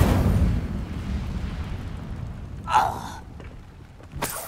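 A fire spell cast in the video game Hogwarts Legacy: a single bright whooshing flare bursts out near the middle, fading quickly over a low rumbling game background, with another short burst at the end.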